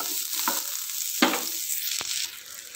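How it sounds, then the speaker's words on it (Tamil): Onions sautéing in a pan for kuzhambu, a steady close sizzle with a few sharper scrapes of a spatula stirring, no talking. "நல்லா வதங்கட்டும்."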